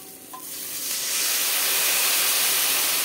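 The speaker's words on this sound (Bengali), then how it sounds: "মশলাটা কষানো হয়ে গেছে, দিয়ে দেবো এবার সর্ষে বাটা" Mustard paste going into sizzling fried spice masala for a bhola fish curry: a quiet start, a small clink, then a loud, steady hissing sizzle that swells and holds.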